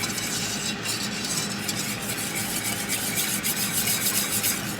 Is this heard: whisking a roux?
yes